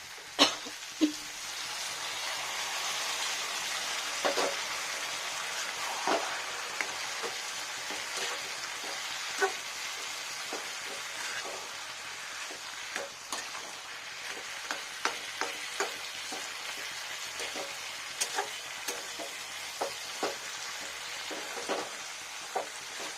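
Boneless chicken and mixed vegetables frying in a pan make a steady, close sizzle, with water poured in and soft stirring scrapes and clicks scattered over the hiss.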